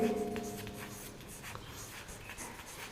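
Numbers for a fourth-standard place value and face value lesson are written on paper or a board, a faint scratchy scribble of a few short strokes under low background hum.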